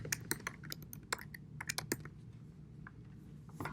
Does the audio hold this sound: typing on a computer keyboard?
yes